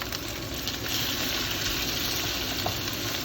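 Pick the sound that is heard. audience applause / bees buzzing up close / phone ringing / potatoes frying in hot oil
potatoes frying in hot oil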